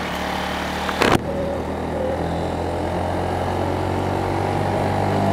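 A Mutt Mongrel 250cc single-cylinder motorcycle engine running steadily while riding, a continuous close drone with wind rush and a short clunk near the start.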